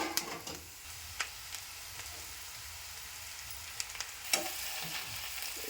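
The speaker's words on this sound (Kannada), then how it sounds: "ಎಲ್ಲನೂ ರೀ ಚೆನ್ನಾಗೆ ಮಿಕ್ಸ್ ಮಾಡ್ಕೋಬೇಕು ನೋಡ್ರಿ" Leafy greens stir-fried in a pan, stirred with a spoon: soft crackling sizzle under occasional scrapes and taps against the pan, close and quiet.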